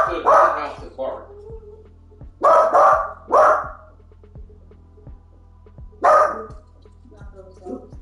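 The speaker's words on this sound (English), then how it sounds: "Not those dogs." Dogs bark in several loud, separate bursts at close range, with short pauses between them, over a steady low hum and what sound like voices in the background.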